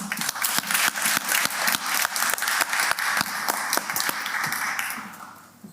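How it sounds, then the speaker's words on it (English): An audience at a UK-India tech partnership event on AI applauds Kanishka Narayan, with distinct, close hand claps in a steady patter that holds strong, then thins and fades over the last second. "Please give me a hand of applause for Kanishka Narayan"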